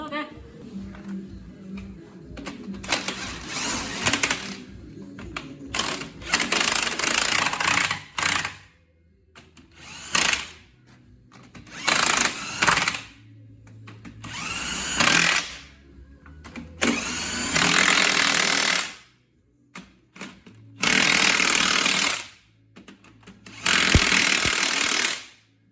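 An impact wrench tightens nuts on the front axle of a Massey Ferguson MF3075 tractor. It fires in repeated loud rattling bursts of a few seconds each, with workshop noise and brief speech in the pauses between.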